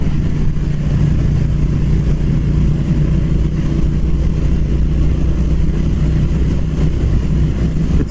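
A Triumph Speed Twin motorcycle engine pulls steadily in sixth gear, a loud, constant low drone that fills the clip with no break in its rumble.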